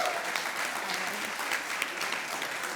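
An audience at a CEO celebration event gives a round of applause: steady, full clapping from a large room, continuous and fairly close throughout.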